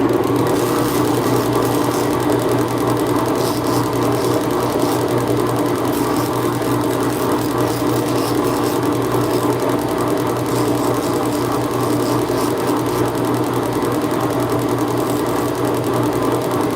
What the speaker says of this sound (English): I'm going to take them over to the grinder with this Scotch-Brite